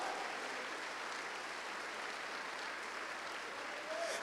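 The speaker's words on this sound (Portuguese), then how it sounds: "Quem pode bradar de vitórias e aplaudir ao Senhor?" A church congregation applauds and cheers during a sermon. The sound is a continuous, even roar of clapping and crowd noise at moderate distance, with no breaks.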